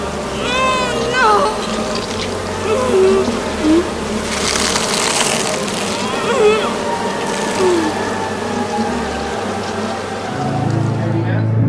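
Insects buzz and drone around, with scattered chirps and a low hum underneath, against a busy ambient background.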